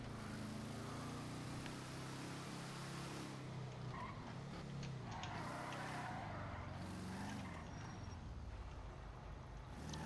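A racing car engine in a video game roars continuously, revving and shifting as tires squeal, steady and loud throughout with no voices.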